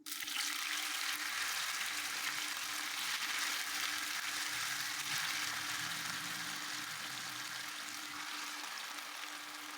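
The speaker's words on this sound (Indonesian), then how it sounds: "Setelah dipotong-potong langsung digoreng." Diced tofu cubes frying in hot oil, giving a steady, loud, continuous sizzle and crackle throughout with no talking.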